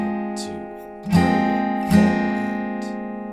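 Acoustic guitar strumming in a riff from a song, with two sharp hammer-on strums landing on the third and fourth beats, ringing chords sustaining between them, played close and alone without talk.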